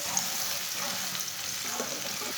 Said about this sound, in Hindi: एक बारीक कटा हुआ प्याज डालेंगे। प्याज को हल्का सा ब्राउन कर लेंगे।